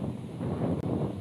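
Wind buffets a microphone high in the air during a DJI Mavic Mini drone flight, giving a steady, dense low rumble with one brief dropout and no voices.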